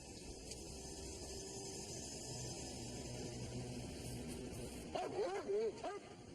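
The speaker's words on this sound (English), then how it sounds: "The dog barked its signal for clear, but McClung" Police dog searching a van, a few short barks and yips near the end after a quiet stretch of low background hum.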